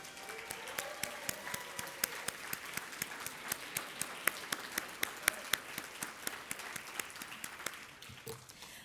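An audience at an organizational report and keynote gathering applauds, a soft bed of clapping punctuated by sharp, distinct claps from nearby hands in a steady, uneven rhythm that fades near the end.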